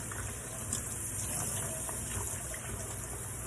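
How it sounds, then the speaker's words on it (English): An implement is rinsed under warm running tap water, a steady continuous hiss of flowing water heard close and unbroken throughout, with no voices. "we're going to rinse this with warm running water"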